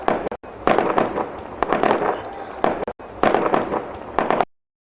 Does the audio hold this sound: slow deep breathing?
no